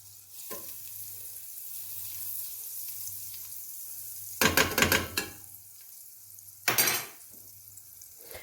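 A spoonful of butter dropped into hot olive oil in a cooking pot, a soft background sizzle broken by two loud bursts of crackling, spattering fry, no talk.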